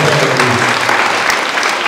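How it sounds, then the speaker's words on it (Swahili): A church congregation in Kisii, Kenya claps for its high-performing students, a loud, dense, sustained round of applause that stays even throughout, close by and with no talking. "Tupigie wale wanafunzi wetu makofi"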